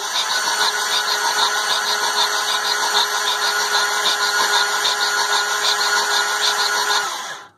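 A 2013 Ford 6.8L V10 with failed cam followers cranking over on a weak battery, a steady droning starter whir with rhythmic pulsing, loud and close, ending abruptly after about seven seconds.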